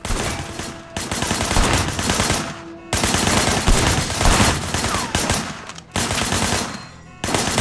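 Sustained bursts of gunfire in the video game Sleeping Dogs ring out loud and close, several long rattling volleys separated by brief pauses.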